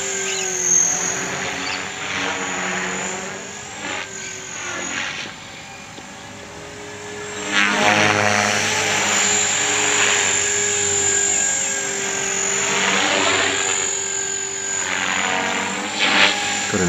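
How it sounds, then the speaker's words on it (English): A small 450-size radio-controlled model helicopter whines loudly and continuously at dusk, its high-pitched motor and rotor rising and falling in pitch as it maneuvers nearby, including inverted flight. "What a great helicopter."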